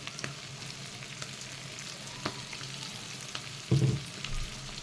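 Oil sizzles in a pan while cooking a gongura goat pancreas curry, a steady close hiss broken near the end by a brief, louder clatter of stirring.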